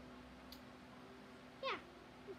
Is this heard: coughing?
no